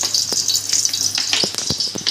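Chopped onion, tomato and green chillies sizzling on a hot tawa, a loud, close, crackling fry broken by sharp scraping and tapping from a spatula.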